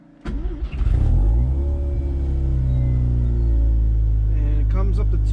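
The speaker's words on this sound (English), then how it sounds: "then we're going to start the car" A warm car engine cranks and fires up, then revs and settles into a loud, steady fast idle close by, with a brief voice near the end.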